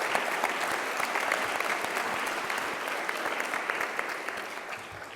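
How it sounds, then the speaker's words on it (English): Hearty audience applause at a lecture series event for speakers and student athletes, a full, even roar of many clapping hands that holds steady for several seconds. "Please give Ms. Meadows, Mr. Crenshaw, and our student athletes another round of applause for a wonderful and most insightful dialogue."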